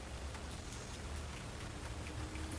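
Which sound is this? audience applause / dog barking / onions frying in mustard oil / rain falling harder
rain falling harder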